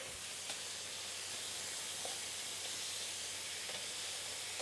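Red, orange and yellow bell peppers sizzle in a hot pan over fairly high heat, a soft, even hiss with faint pops; quiet and continuous, with no voices.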